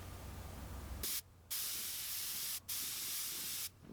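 Aerosol spray paint being applied to a crankbait fishing lure in three loud, close hissing bursts separated by short silent pauses.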